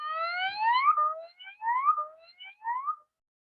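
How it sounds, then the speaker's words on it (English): A warning alarm sounds alone in clear, rising electronic tones, two short whooping sweeps after an opening swell, close and fairly loud before cutting to silence. "or a burglar alarm"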